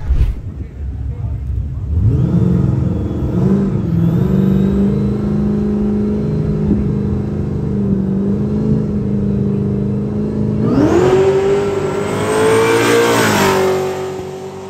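A Mercedes C63 and a VW Jetta TSI accelerating hard in a race, a loud engine roar rising steadily through the gears with a long climbing pitch and a sharp surge near the end, close up, with people talking over it.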